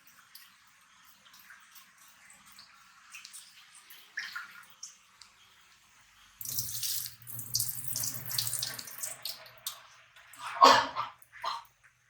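Water running from a tap and splashing over rice being rinsed in a cooker pot, quiet at first then a louder stream with swishing and clattering.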